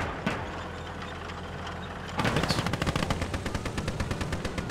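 Machine gun fire in the World War II game Gates of Hell: after a low engine rumble and a single shot, a long, rapid burst of automatic fire rattles steadily and fairly loud to the end.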